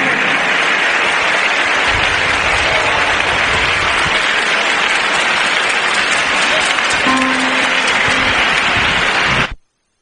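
A congregation at a prayer service claps hands in loud, continuous applause-like clapping that lasts for several seconds, with some crowd noise mixed in, before it cuts off abruptly.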